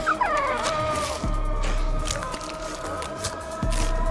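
A dog whines and yips in high, wavering cries over a low hum, with a couple of sharp knocks in between.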